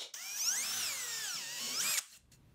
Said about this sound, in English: the next step is to measure and mark to pre-drill holes for the screws